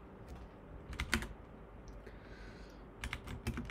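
Someone types on a computer keyboard to name a new folder, close and quiet. Sparse single key taps come in small clusters with a few louder clicks, and no one speaks.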